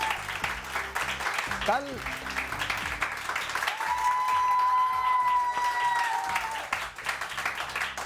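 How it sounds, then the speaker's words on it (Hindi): Studio audience applause on a Pakistani morning TV show, a broad wash of clapping running under the host's speech, with sustained musical tones entering midway. "बहुत सारी तालियां।"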